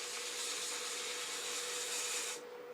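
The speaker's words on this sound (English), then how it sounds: "I'll do some rough sanding here at you know, a coarse grit," Rough sanding a turned wooden owl sphere with coarse 120 grit: a steady, close hissing rasp that holds evenly for a couple of seconds before cutting off abruptly.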